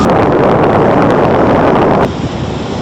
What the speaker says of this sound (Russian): Если верить прогнозу погоды, скорость ветра сегодня 12 метров в секунду.